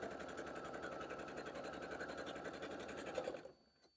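A sewing machine stitches a quilt block seam for a Barn Star sampler at a steady, fast, close and fairly loud whir, then stops abruptly near the end, leaving a quiet tail.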